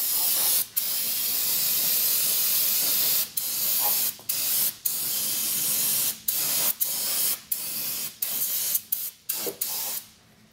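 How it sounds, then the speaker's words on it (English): Repeated bursts of aerosol brake cleaner spray hissing during a car oil change, long sustained sprays at first, then shorter quick puffs separated by brief pauses. "Brake clean is just a cleaning residue spray"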